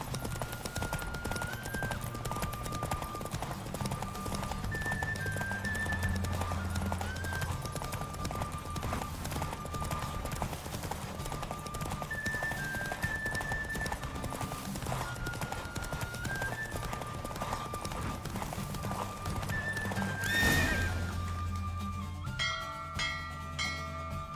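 Galloping horse hooves clatter in a fast, continuous beat during a race in The Witcher 3, with a neigh, game music and brief voices mixed in, the rhythm easing near the end.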